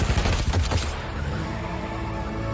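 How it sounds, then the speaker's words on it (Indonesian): Rapid bursts of gunfire from a film action scene, in which treacherous henchmen open fire on a man. The shots are dense at the start, then fade into a rumbling tail. No voices. "Fadlan dan para anak buahnya yang berkhianat langsung menyerang Gas hingga beberapa kali terkena tembakan"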